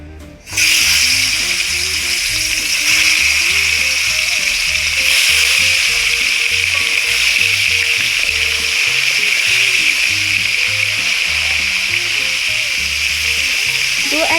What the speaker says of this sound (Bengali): তেলটা গরম হওয়ার পরে আমরা এর মধ্যে যে মাছটা আপনাদেরকে দেখিয়েছিলাম সেইটা আমরা লবণ আর হলুদ দিয়ে মাখিয়ে মাছটাকে ভেজে নিচ্ছি।